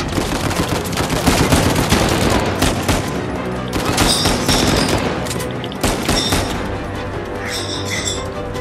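Rapid bursts of gunfire from the video game Uncharted 4, dense automatic volleys mixed with single shots and crashing impacts, loud and continuous throughout with no talk over it.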